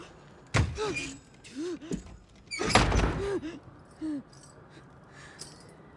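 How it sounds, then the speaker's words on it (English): A trap door slams shut in a cabin, giving two heavy wooden thuds a couple of seconds apart, with a sharp breath and brief vocal sounds around them. "So, Gage, get your ass over here and shut this trap door"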